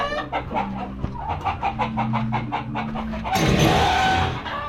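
Darag native chickens cluck in a rapid, repeated series close by, followed by a burst of rustling and scuffling as the birds are moved, with no speech.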